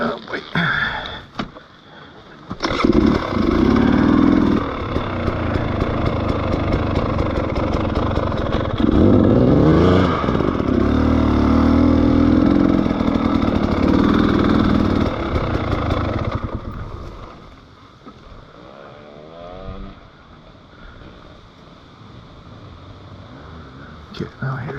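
Motorcycle with spun bearings, its engine revving loudly and close for long stretches, dropping to a lower rumble near the end, with a person talking over it.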